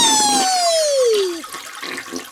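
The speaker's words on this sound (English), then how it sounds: "Now that you flushed me, everyone is happy." A toilet flushes in a cartoonish way, starting with a falling whistling tone and then trailing into a short gurgle of draining water, loud and close.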